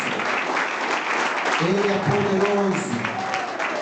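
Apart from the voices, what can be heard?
audience applause in church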